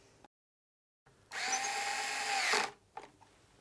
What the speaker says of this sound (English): replace the base plate and install all six screws